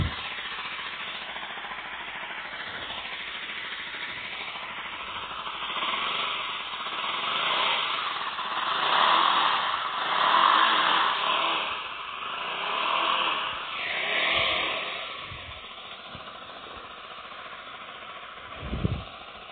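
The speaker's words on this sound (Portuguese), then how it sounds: "A próxima moto que eu vou mostrar pra vocês é a Honda Rebel 300." A Honda Rebel 300 motorcycle engine runs steadily for the whole stretch, its rough, muffled drone swelling several times as the throttle rises and falls, with a sharp short burst near the end.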